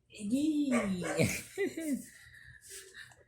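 A small female dog gives a few yipping barks and whimpering cries, fairly close, with a person's voice mixed in among the calls.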